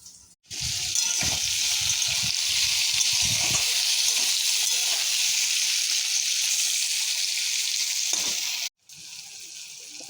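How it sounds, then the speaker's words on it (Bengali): Onion, bay leaf and spice paste fry in hot oil with a steady, loud, hissing sizzle that runs unbroken for several seconds, with a few stirring knocks at the start and a brief pause near the end. "যে তেল দিলাম, তেল দেওয়ার পরে পেঁয়াজ দিলাম, তেজপাতা দিলাম"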